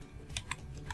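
Typing on a computer keyboard, a short burst of four or five crisp, close key clicks in quiet room tone.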